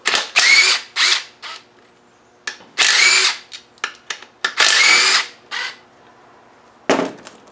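A power tool removes bolts from a Wolf LT230 transfer case in about a dozen loud, close bursts of whirring. The bursts vary from brief blips to runs of a second or so, separated by short quiet gaps, with no voices.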